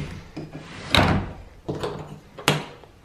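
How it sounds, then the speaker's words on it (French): Sliding door in an apartment being moved, several close rolling rumbles and thuds as the panel slides and knocks, with brief pauses between movements. "c'est pas une porte, c'est une porte coulissante, donc j'espère que ça va pas faire énormément de bruit et que Anto ne va pas streamer"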